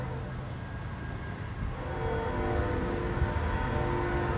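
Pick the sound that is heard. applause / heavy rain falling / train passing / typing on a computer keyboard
train passing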